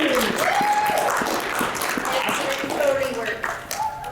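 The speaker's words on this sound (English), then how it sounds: "round of applause for our lovely help" A comic con audience applauds an improv show with steady, dense clapping that continues throughout, while faint voices talk over it.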